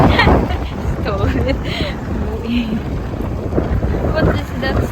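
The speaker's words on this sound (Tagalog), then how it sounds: "Ang lakas ng hangin, you know." Strong outdoor wind batters the microphone in heavy low rumbling gusts throughout, while a voice speaks over it and faint street sounds sit underneath.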